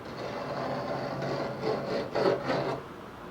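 A sharp head scraping the coating off an aluminum panel, heard as a steady close rasping rub over about three seconds that swells near the end, with no talking.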